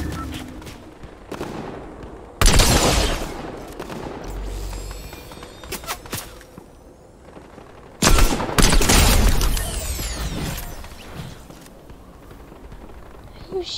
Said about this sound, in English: There's people shooting me from both sides.